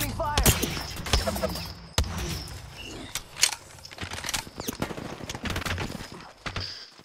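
Bursts of gunfire in Apex Legends, the battle royale game, sharp shots scattered in clusters across several seconds, loud and close, with voices talking now and then between them.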